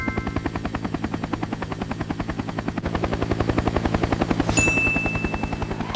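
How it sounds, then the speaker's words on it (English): Helicopter rotor beats in a fast, steady chop that stays loud and close throughout, with a brief high whine near the end. "It's a helicopter!"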